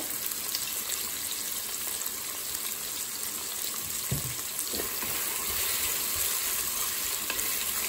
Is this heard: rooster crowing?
no